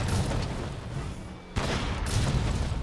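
Charged gunlance shot from Monster Hunter World Iceborne, a heavy booming in-game explosion filling the clip with dense roaring blasts, one sharp renewed burst midway, loud and close with no talk.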